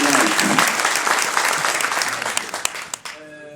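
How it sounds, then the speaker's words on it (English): A seated audience gives a final round of applause at a Somali public event, loud dense clapping from many hands that swells and then thins out, with a few last scattered claps at the end. "send you a final applause from the audience here today"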